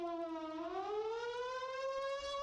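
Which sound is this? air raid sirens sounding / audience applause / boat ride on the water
air raid sirens sounding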